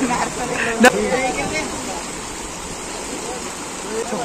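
Floodwater rushes along a swollen river in a steady, roaring wash close by, with a person talking over it and a brief sharp knock near the start.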